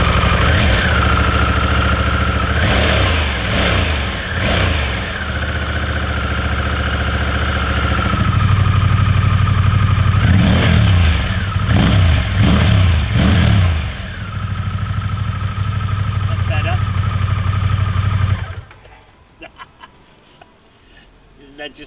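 Motorcycle fitted with a Jekyll and Hyde switchable exhaust valve, its engine loud and close, idling and then blipped through several sharp revs before it cuts off abruptly to near silence.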